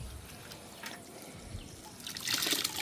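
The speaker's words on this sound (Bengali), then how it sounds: "দেখেন কিভাবে মাছগুলো আমরা ঢেলে দিচ্ছি।" Small Padma river fish fry and water poured into a pot, a soft trickle that swells into a louder splashing pour near the end.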